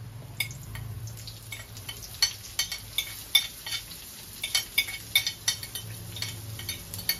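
Chopped onions sautéing in a pan for beef pares: a steady, soft sizzle broken by a run of small, sharp clinks and scrapes from stirring, with no talking.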